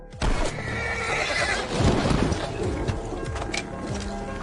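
A horse whinnies and neighs loudly and close in a desert setting, several drawn-out calls running through the clip along with a few hoof clops.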